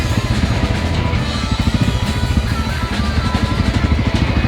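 Honda XR600R dirt bike with a 12-tooth front sprocket, ridden in 4th gear: a loud, close, steady engine drone with a fast low throbbing pulse throughout and no talk.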